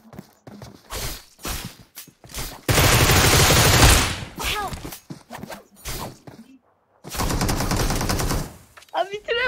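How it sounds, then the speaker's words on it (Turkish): Dense gunfire from a mobile shooter game, with rapid automatic bursts and one long loud sustained volley, broken by short gaps and interspersed with other game effects. "Vur abi."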